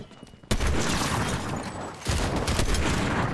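A sudden burst of heavy gunfire from many players in Fortnite erupts and keeps up as a dense, continuous barrage of overlapping shots, loud and close, with a brief dip before resuming.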